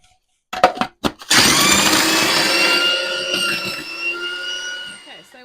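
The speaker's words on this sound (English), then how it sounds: "this food processor just keeps on going" A food processor whirs as it blends biscuits and butter for a mixed berry tart base: a few knocks and short bursts, then the motor starts up loud and runs continuously, its pitch gradually settling before it slows near the end.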